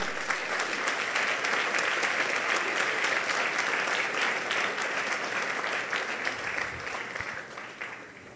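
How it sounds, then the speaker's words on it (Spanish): Church congregation at a Sunday service applauding, a full, even roar of clapping that holds steady for most of the stretch before thinning slightly toward the end. "denle un aplauso a nuestro Rey, pues"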